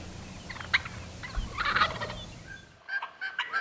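Wild turkeys gobble outdoors in a burst of loud, rattling calls with scattered other bird notes, followed by a quieter stretch with a few shorter gobbles.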